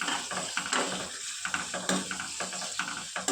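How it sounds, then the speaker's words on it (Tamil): Onions sizzle loudly in a hot pan while a spoon scrapes and stirs in quick, repeated strokes. "உப்பு அதிலே கொஞ்சம் போட்டு வதக்குனாக்கா கொஞ்சம் சீக்கிரமாக வெங்காயம் எல்லாம் வதங்கிடும்."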